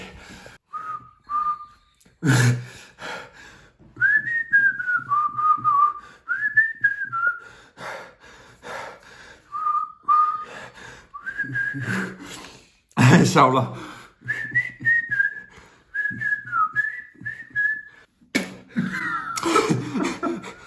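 A person whistles a melody in short, wavering phrases broken by pauses, close and fairly soft, with a few brief spoken words and breaths between the phrases.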